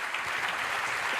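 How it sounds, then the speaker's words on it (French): An audience claps steadily through a dense, even round of applause at the close of a keynote talk at a conference, with no voices on top. "On peut les applaudir."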